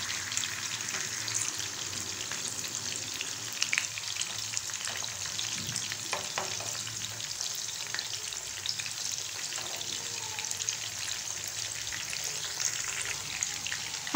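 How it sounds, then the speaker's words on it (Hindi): Gola kebabs fry in oil over a medium-to-low flame, with a constant close crackling sizzle and occasional light stirring taps that continue evenly throughout without speech. "हम इसे मीडियम टू लो फ्लेम पर फ्राई कर रहे हैं।"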